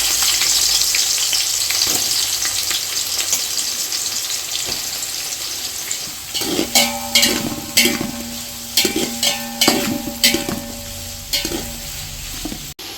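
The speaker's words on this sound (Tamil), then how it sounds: "எண்ணெய் காஞ்சிடுச்சுங்க, வெங்காயத்தை போட்டுக்கலாம்." Onions for mutton biryani fry in hot groundnut oil, first as a loud, steady hiss, then with rhythmic clanking stirs against the pan, close up and without talk.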